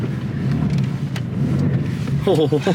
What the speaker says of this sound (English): We are doing just Yeah, big donuts here.